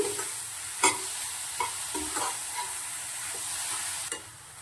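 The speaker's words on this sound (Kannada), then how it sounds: "ಇದನ್ನ ಒಂದು ಎರಡು ಮೂರು ನಿಮಿಷ ಫ್ರೈ ಮಾಡ್ತೀನಿ" Grated pumpkin frying in a pan, a soft steady sizzle broken by repeated scraping stirs and a few sharp clicks of a spatula against the metal.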